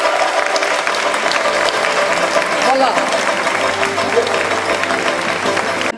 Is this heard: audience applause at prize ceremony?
yes